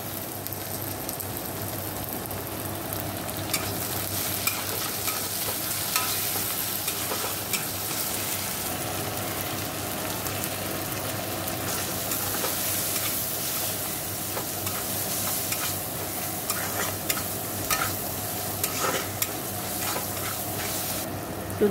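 Crushed ginger and garlic with green chilies and tomato fry in a pan, a steady close sizzle with occasional stirring scrapes throughout, and no voices.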